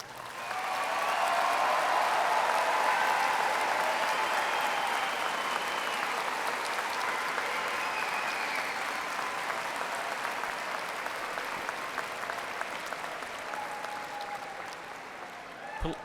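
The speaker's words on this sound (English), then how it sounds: "let us recognize with a hearty round of applause Eastern's newest" Sustained applause from a large graduation-ceremony audience for the new graduates at Eastern Kentucky University's spring 2013 commencement. A broad, steady roar of clapping that swells early and slowly tapers, with faint tones and crowd noise beneath.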